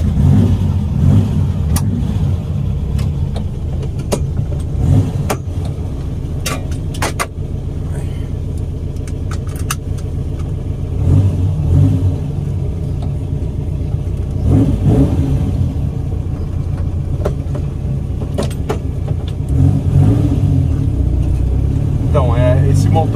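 A Volkswagen Fusca with a 2.0-litre gasoline fuel-injected engine, twin 40 throttle bodies, a Sport System cam and FuelTech FT450 injection drives along with a loud, steady engine drone and repeated revving surges, with someone talking over it.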